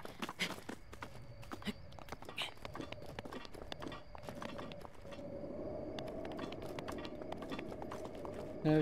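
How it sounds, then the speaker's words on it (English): Horse hooves clip-clop in the video game Zelda: Breath of the Wild, a steady run of quick, crisp hoofbeats at moderate distance under a soft background hum. "I see like a horse thing. So cool looking."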